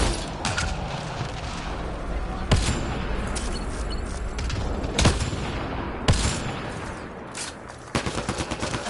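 Sci-fi laser weapons firing in Mass Effect Andromeda: sharp, loud blasts cracking out every couple of seconds over a dense, rumbling combat bed, ending in a quick stuttering burst of shots.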